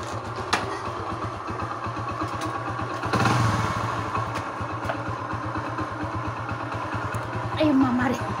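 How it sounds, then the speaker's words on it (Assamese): A motorcycle engine runs steadily nearby with a low, even putter and some clatter, swelling slightly in places, while people speak over it. "বাইকত যাওঁ, বাইকত"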